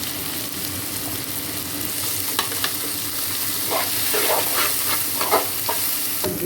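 Ginger paste fries in a little oil in a pan for an egg puff filling, giving a steady close sizzle with occasional soft stirring scrapes and no talk.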